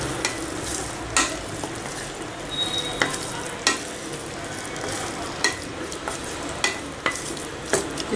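Chopped capsicum frying in a pan for capsicum in cashew paste, a continuous sizzle under sharp, regular clinks and scrapes of a utensil stirring.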